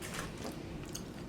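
Crunchy yakisoba-flavored ramen noodle snacks from Japan being chewed up close, a steady run of dry crunching and bites with no talking.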